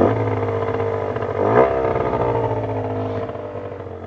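A Yamaha TZR 50 two-stroke motorcycle accelerates close by, its buzzing engine rising in pitch through a gear change with a brief surge, loud and steady throughout.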